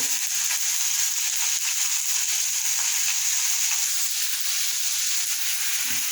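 Tomato frying in a pan, a loud, steady hiss and sizzle of hot oil with faint crackles throughout, close up and uninterrupted, with no talk.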